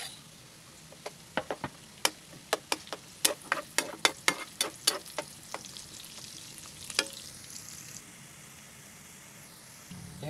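Onions and garlic fry in a pan with a soft sizzle beneath a run of sharp, close ticks and taps from stirring, which thin out toward the end.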